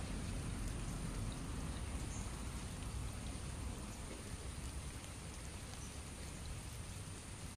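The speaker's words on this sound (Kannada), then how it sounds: "ಮತ್ತೆ ಮಳೆ ಸ್ಟಾರ್ಟ್ ಆಯಿತು." Rain falls steadily over a field where cowpeas are being harvested, a soft, even hiss of drops on surfaces that continues alone and at a constant level throughout.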